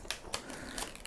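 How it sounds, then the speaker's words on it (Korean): Plastic film is peeled off a new iPhone XS Max box, giving faint, quiet crinkling and a few brief crackling bursts at close range. "자, 그러면 비닐을 제거를 하겠습니다."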